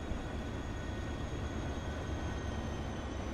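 Trains running in Transport Fever, a steady broadband rumble with a faint high whine, continuous and even throughout with no talk.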